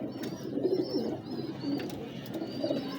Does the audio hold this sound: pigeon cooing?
yes